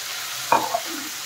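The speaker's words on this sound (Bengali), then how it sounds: "এখন কিন্তু মশলার সাথে কিন্তু আলু ফুলকপি কিন্তু ভালো করে কষিয়ে নিতে হবে।" Spice paste with potato and cauliflower frying in a pan for an aloo fulkopi dish, a brief stir-and-sizzle burst over a steady background hiss, close and moderately loud.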